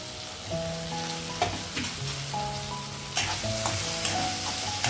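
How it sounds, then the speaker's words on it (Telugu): Potatoes and beans frying in a pan for a home-style curry, stirred now and then, with a steady close sizzle and a few louder bursts as the pieces are turned; background music plays along. "ఇప్పుడు బంగాళదుంప బీన్స్ ఒకేసారి వేసేద్దామండి ఇందులో కలిసాయి బంగాళదుంపలు వేస్తున్నాను"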